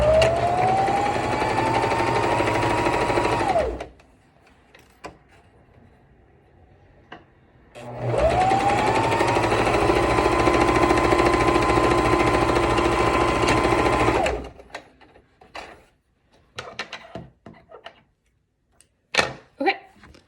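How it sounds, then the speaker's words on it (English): A sewing machine stitches the bottom seams of a fabric face mask, humming and whirring loudly in two steady runs with a pause between them, followed by scattered small clicks and handling noises. "So now I'm just gonna sew the bottom seams."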